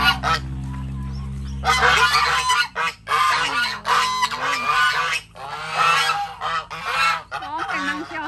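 Geese on a farm out in the rice fields honking loudly and repeatedly at close range, a rapid overlapping series of harsh nasal calls following a steady low hum.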